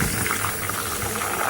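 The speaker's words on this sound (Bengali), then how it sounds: "ধনে পাতাটাও আমি এরকমভাবে একটু মুচমুচে করে ভেজে নেব।" Coriander leaves frying crisp in hot oil, a steady dense bubbling sizzle that holds evenly and close throughout, with no voices.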